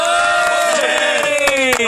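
Crowd cheering and whooping before a stage performance begins, a dense, loud, continuous roar of many voices with shouts rising above it throughout.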